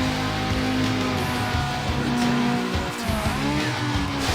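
Race car engine in Need for Speed Underground, a steady loud revving drone with shifting pitch and brief tire squeal across the run, no voices.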